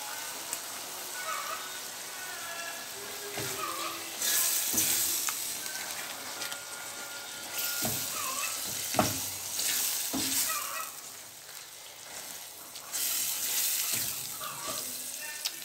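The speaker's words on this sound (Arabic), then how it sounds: "نسيبها تتشوح مع بعضها كده" Minced meat with tomato paste sautéing in a pan while being stirred, giving a steady close sizzle broken by repeated scrapes and clacks of the spoon, with no talking.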